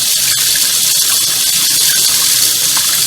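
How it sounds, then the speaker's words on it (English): Hot water pours steadily from a tap fed by a tankless water heater, a constant broadband rush of flowing water that fills the whole clip with no voices. "it takes a few seconds for the device to ramp up and start producing hot water"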